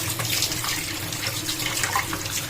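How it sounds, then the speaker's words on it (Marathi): Tap water runs over two carrots and a beetroot being washed, a continuous splashing gush with small irregular bursts as the vegetables are turned under the stream. "दोन गाजर घ्यायचीत आणि एक बीटरूट घेतलं ते पाण्याखाली धुवून घेतलं स्वच्छ धुवून घ्यायचं"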